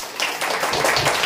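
A church congregation claps in a dense burst of many hands, a short, close, busy patter.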